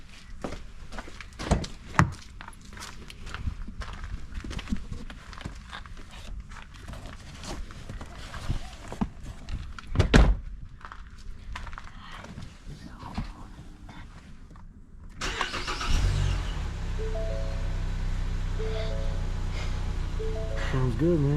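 After clunks and shuffling handling noises, a Ford Fusion 2.5L engine cranks and catches, then settles into a steady, close idle with a low rumble.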